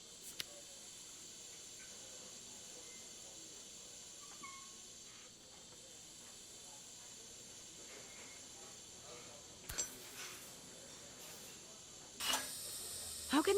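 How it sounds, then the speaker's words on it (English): Steady broadband hiss of steam escaping from leaking pipes in the puzzle game Assemble with Care, constant and moderately quiet, with a few brief clicks and small bumps near the end. "How can there be so much steam?"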